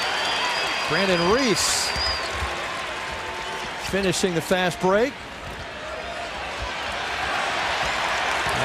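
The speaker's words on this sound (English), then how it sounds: "The crowd and the Syracuse bench on its feet." Crowd noise at a Syracuse versus Oakland college basketball game, a steady broad roar swelling in bursts behind an announcer's play-by-play, with brief louder cheering around the made fast break.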